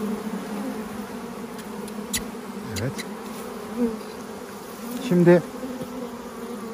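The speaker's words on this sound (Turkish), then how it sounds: "Şu anda arılar sakin." Honey bees buzz steadily around an opened, combined hive during inspection, a continuous low drone close by, with a brief spoken word or two near the end.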